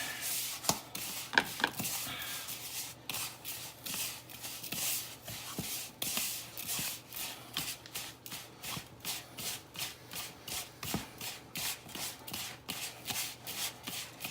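Hands mixing bacon cure inside a plastic bag: steady rhythmic rustling and crinkling of plastic with soft granular rubbing, close but quiet, repeating in quick strokes without pause.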